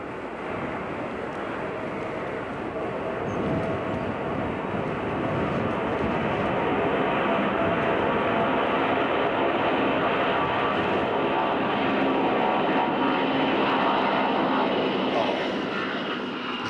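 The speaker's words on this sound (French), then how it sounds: "Passer la journée à admirer ces gros avions décollés." Large airplanes taking off at an airport, with a powerful, sustained jet roar that stays loud and steady throughout, broadband and rumbling with no breaks.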